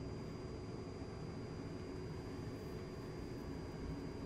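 An A-10C Warthog jet taxis in the DCS World flight simulator, its engines giving a steady, broad roar that holds even and unbroken throughout, with no voices.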